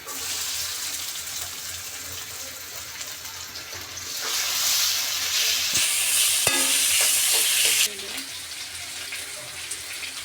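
Bata fish dropped into a hot pan with onions for a Bengali bharta, bursting into a loud broadband sizzle that swells midway and then settles back to a steady frying hiss, with a few scraping stirs.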